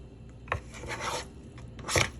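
A spoon stirs chicken gravy in an old pot, making a few rough scraping rubs against the metal, close and moderately quiet, with no talking.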